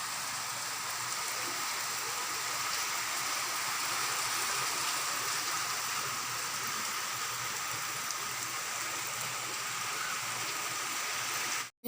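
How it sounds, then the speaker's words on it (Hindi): Steady rain falls in the evening at an outdoor market, a continuous even hiss that holds at the same level throughout with no voices heard. "बारिश हो रही है"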